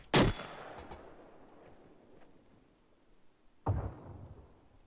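A mortar fires in the military game ArmA 3, two distinct booming launches a few seconds apart, each with a sharp onset and a fading tail over faint background noise.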